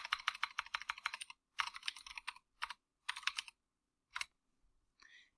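Fingers tap out a file name on a computer keyboard in quick clustered bursts of crisp clicks, separated by short pauses, ending with a few isolated keystrokes.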